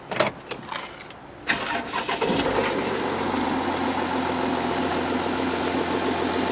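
A new car sitting hot in the sun is started: a few clicks and cranking, then the engine catches at about two seconds and settles into a steady, close idle.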